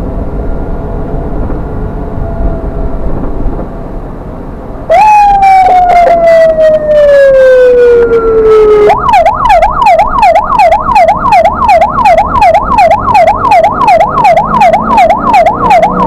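An ambulance siren on a Malaysian street sounds loud and close. A long descending wail comes first, then a rapid repeating yelp that continues steadily to the end.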